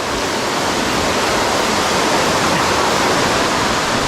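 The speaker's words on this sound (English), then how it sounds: "So that's the best waterfall that we've seen around the El Nido, Taytay area." A waterfall near El Nido and Taytay in Palawan, Philippines roars loudly and steadily. The rushing water is heard from close by, a dense continuous wash with no breaks and no voices.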